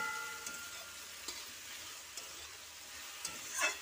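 Leafy greens (saag) with a pinch of sugar fry quietly in a pan, a soft continuous sizzle broken by a few faint scrapes and stirs, the loudest near the end.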